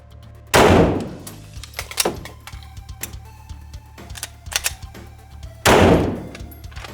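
Gunshots at a shooting range during a draw-and-fire drill with a speed reload: two loud, sharp reports several seconds apart, with metallic clicks, clacks and handling noise of the reload in between, no talking.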